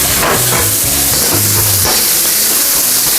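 Pork and snow peas stir-frying in a hot pan, loud constant sizzling with scraping and clanking of the utensil against the pan in irregular bursts, close up.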